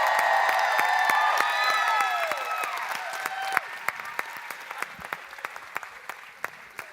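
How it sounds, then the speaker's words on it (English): Audience applause and cheering at a festival celebration, loud and dense at first with whoops, then thinning out into scattered individual claps that fade away. "I want you to give them the applause that all of you deserve"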